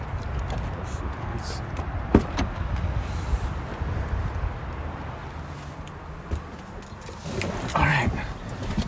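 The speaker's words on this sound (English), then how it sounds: "Let's get these cars moved." A rental car is moved around a parking area in Las Vegas, heard as a low, steady engine rumble with a few faint knocks and clunks, and a slight swell near the end.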